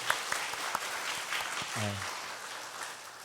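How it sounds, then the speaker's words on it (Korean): A church congregation applauds its supporters during a Sunday service, a steady broadband wash of clapping carried through the whole stretch with a brief voice heard partway. "저는 우리 서포터즈 우리 박수 한번 했으면 좋겠어요"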